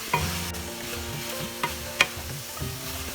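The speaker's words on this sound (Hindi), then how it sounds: "अभी सब अच्छा से मिक्स करके हमें और 2-3 मिनट सौटे करना है।" Cabbage and fried potatoes being sautéed and stirred in a pan, a steady close sizzle broken by a few sharp clicks and scrapes of the spatula against the metal, with no talking.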